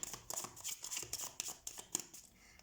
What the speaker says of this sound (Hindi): तो वेट, मैं कार्ड शफल कर लेती हूँ।